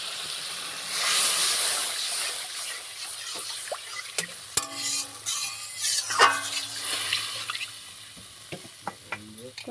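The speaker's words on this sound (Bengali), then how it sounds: "এবার জল দিয়ে দেবো এর মধ্যে।" Water poured into cooked spice paste in a pan for a rohu fish curry with pistachio, giving a sizzling hiss that settles into bubbling and stirring scrapes with sharp clinks of a utensil against the pot, close by, no talking.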